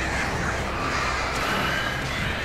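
Crows caw harshly as they attack in the video game Alan Wake, over a dense, constant wash of game noise at steady loudness.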